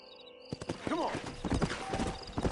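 A stallion's hooves clip-clop on the ground in the western video game Red Dead, with irregular close hoofbeats and a whinny mixed in as someone talks over them.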